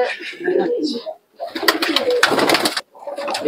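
Kamagar Jaldar pigeon cooing in soft, repeated phrases, with rustling and handling noise in between and a brief pause midway; nearby voices talk over parts of it.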